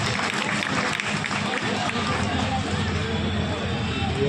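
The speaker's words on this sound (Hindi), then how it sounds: "जोरदार ताली आसू" Loud, sustained applause and clapping from an audience at an award ceremony, dense and continuous throughout, with crowd hubbub mixed in.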